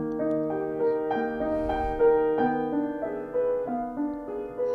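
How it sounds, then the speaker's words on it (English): A lyrical romantic arietta on solo piano with the sustain pedal held, so the notes ring into one another in a soft, connected wash. The phrase is gentle and close, with no voices over it. "in a lyrical romantic piece like arietta, the use of the pedal is essential to keep the sound soft and connected"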